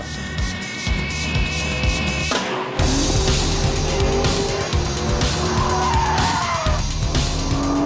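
A car is driven hard around a track with its traction control still partly engaged, the engine roaring loud and close throughout as tires squeal and skid through corners and the revs rise and drop between shifts.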